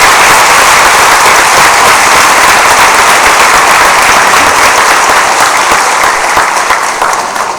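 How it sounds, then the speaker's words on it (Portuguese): A church congregation bursts into loud, dense welcoming applause for new members, a thick continuous roar of many hands clapping that holds steady before easing slightly at the end. "Nós queremos sugerir uma salva de palmas de boas-vindas."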